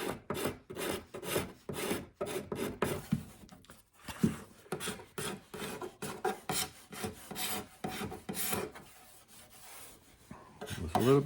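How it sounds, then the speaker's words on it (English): A hand scraper is drawn repeatedly across fine wood while a dropped Martin HPL guitar is repaired, making close, dry rasping strokes in a quick, uneven rhythm with short pauses between passes. "I use a hand scraper like this a lot on really fine wood"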